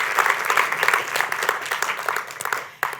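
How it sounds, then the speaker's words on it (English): Audience applause at the ERIM Awards 2023 ceremony, a dense, steady burst of clapping from a seated crowd that tapers slightly before a final sharp clap near the end. "please give them a round of applause"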